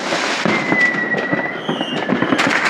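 Fourth of July fireworks bursting over three cities, a dense run of crackling pops and distant booms through smoky air, with a thin rising whistle near the start and a louder burst toward the end.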